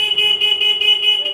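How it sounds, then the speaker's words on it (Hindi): A freshly repaired motorcycle horn sounds one loud, continuous electric beep at close range, a steady buzzing tone lasting over a second with a slight pulsing warble. "अब हम अपना हॉर्न बजाएंगे"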